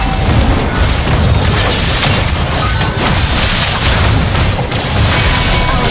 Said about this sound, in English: Our turret has been destroyed.